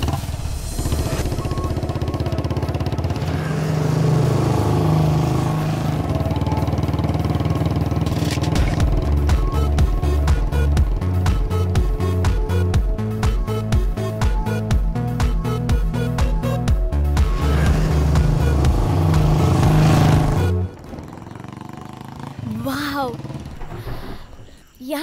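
A motorcycle engine rumbles steadily with chugging, revving pulses for about twenty seconds, then cuts off abruptly, leaving quiet with a voice speaking.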